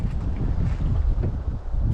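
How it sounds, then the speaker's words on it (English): Wind gusting steadily across a cold winter river, a dense low rumble of buffeting against the microphone that stays loud and constant with no voices. "If the wind wasn't blowing, it wouldn't even be that bad, but that wind is really making things very, very chilly."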